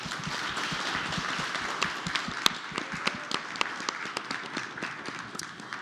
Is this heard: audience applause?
yes